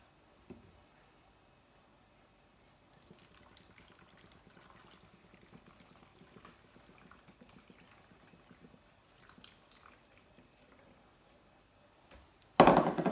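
Water poured from a measuring jug into a Huel shaker bottle, a quiet, irregular trickle and splash lasting several seconds, close by, ending with a brief loud knock.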